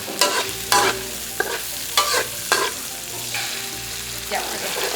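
Pad Thai noodles stir-fried in a hot pan during a Thai cooking class on Koh Tao, with loud sizzling and sharp, quick spatula scrapes and tosses in an uneven rhythm.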